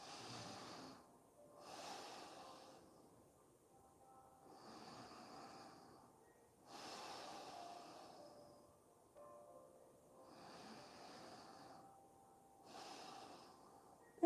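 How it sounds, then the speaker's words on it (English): Slow, steady nasal breathing during a yoga session, with long, airy inhales and exhales repeating in a calm rhythm. The sound is close and soft and has no talk over it. "breathing through our nose."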